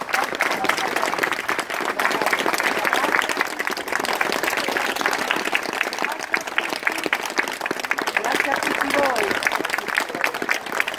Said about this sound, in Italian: Momenti di commozione e applausi hanno accompagnato le parole dei brevi interventi